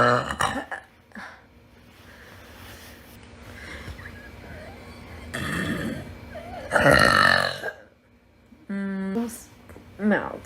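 A girl burps with her tongue out, giving a few loud, rasping belches in bursts between stretches of quieter talking and background sound.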